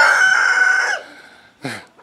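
A rooster crows loudly and close by, holding one sustained, strained call for about a second. A short squawk follows after a brief pause.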